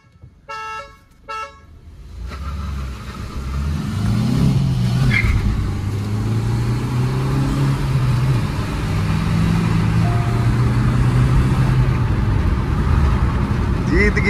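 Old and new Hyundai Creta SUVs, including a diesel Creta, in a drag race. A short burst of horn toots gives way to a loud, sustained engine roar as the cars accelerate past, with voices mixed in.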